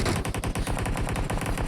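Rapid automatic gunfire in the mobile battle-royale game BGMI, a loud, dense burst of closely spaced shots that rattles without pause through the whole moment.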